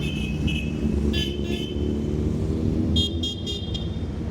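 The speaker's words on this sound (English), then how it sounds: "Noisy bike here." Loud, steady motorcycle engine rumble at a charity toy run in Stoke-on-Trent, with bikes passing close by and brief horn toots over continuous traffic noise.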